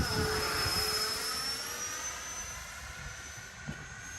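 An Xfly B-1B Lancer RC model jet flies overhead with its landing gear down, its steady, high jet whine easing slightly as it passes at a moderate distance.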